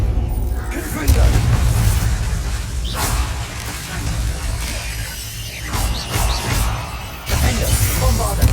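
Spells burst and explode during combat in Hogwarts Legacy, with loud booming blasts and whooshes recurring every few seconds over a dense, continuous battle din.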